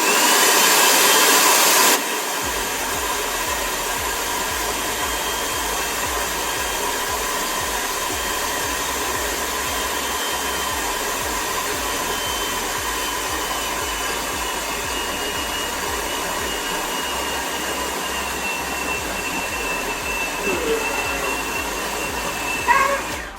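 A blender runs steadily, whirring loud and continuous as homemade Nutella is mixed with milk, after a brief louder burst at the start; no talking over it.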